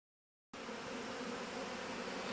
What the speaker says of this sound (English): Alright, so we've got lots of bees in here.